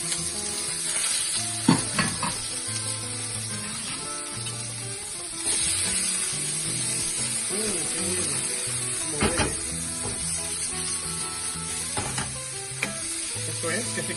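Onion and garlic frying in hot olive oil in a pan make a steady, loud sizzle that runs throughout, with occasional utensil scrapes and clinks breaking through.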